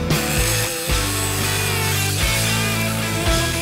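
An angle grinder cuts in repeated strokes close by, a harsh, dense whine that dips briefly between passes, with no voices over it.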